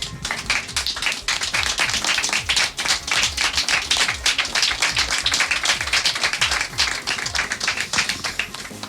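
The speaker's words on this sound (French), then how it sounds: "Je vous remercie et je vous applaudis encore. Voilà, on les applaudit." An audience claps for several seconds in a lively, continuous round of applause, individual hand claps distinct and close, with little else heard.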